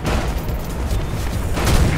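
Gunfire in the first-person game Mirror's Edge crackles in rapid, overlapping bursts, a dense and continuous volley of shots that swells slightly toward the end.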